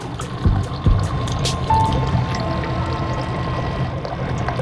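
Water slowly pouring and trickling out of a bucket at a neglected mine pond, a few splashy gulps early on, then a steady low gurgling dribble, close by, with no talking.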